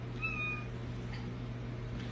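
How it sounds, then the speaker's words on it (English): A cat gives one soft, brief meow near the start, in response to a command, over a steady low hum. "I taught her to meow on command"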